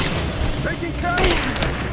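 Dense gunfire from a firefight in the video game Rise of the Tomb Raider, set in abandoned Siberian mines, with bursts and booms running throughout under shouted voices.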